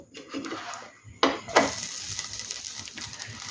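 An aloo kulcha flipped in a pan over a gas stove: a couple of sharp clatters from the utensil against the pan, then a steady, broad sizzle that carries on close and even.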